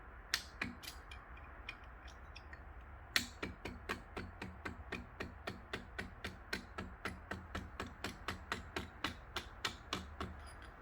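Light hammer taps on a Suzuki SV650 motorcycle engine part during a motor teardown, a steady series of sharp metallic ticks at about three per second after a few scattered early strikes, close and clear over a quiet background.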